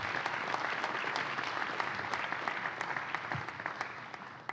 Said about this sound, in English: A big round of applause for Professor Nguyen.